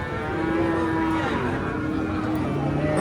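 A calf moos at a crowded Qurbani cattle market, sounding as a drawn-out, fairly close bellow over a steady din of market noise and distant voices.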